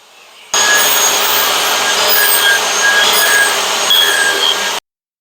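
A saw cuts wood splines held in a spline jig, a loud steady whining cut lasting about four seconds and then stopping abruptly.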